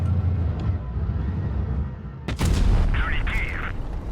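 An AMX 50B tank fires in the World of Tanks Blitz video game: one loud, sharp cannon blast rises out of a steady, heavy engine rumble, with a brief electronic tone just after.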